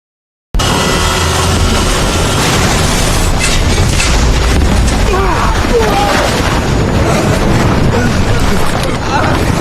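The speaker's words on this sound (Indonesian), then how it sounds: "tiba-tiba pesawat pun meledak" A plane explodes in the 2019 disaster film Ashfall: a loud, sustained roaring blast fills the clip, with rumbling crashes and debris-like noise continuing throughout at high volume.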